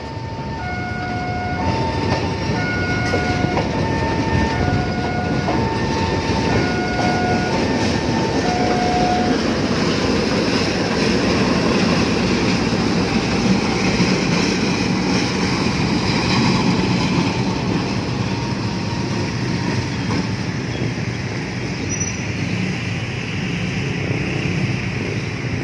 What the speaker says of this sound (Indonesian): Ya, lokomotif double traksi maju ke arah timur.